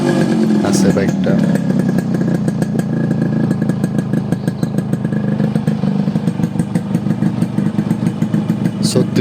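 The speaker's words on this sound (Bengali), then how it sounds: "এখনো ইঞ্জিনের সাউন্ড দেখলে বুঝতে পারবেন কিরকম আছে বাইকটা।" Yamaha RX 100 two-stroke motorcycle engine running steadily at idle with a rapid, even popping beat, loud and close throughout.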